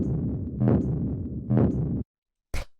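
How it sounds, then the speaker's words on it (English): Two deep, booming percussion hits in a dark industrial ambient techno sample, each swelling heavily and decaying, then a gap and a short sharp burst at the end. "the first sound that we have here is this deep percussion"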